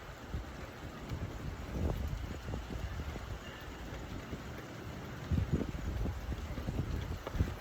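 Steady wind rushing and buffeting across an outdoor microphone, with low rumbling gusts that swell and ease throughout.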